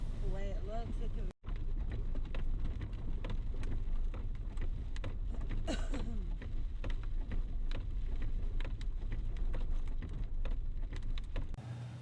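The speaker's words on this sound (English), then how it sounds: "By this time it was dark and the rain was starting to pick up." Steady rain falls in the dark at a National Forest Service campground along the Smoky Mountains, a constant loud hiss with scattered drop taps and one brief cut near the start, and no talk.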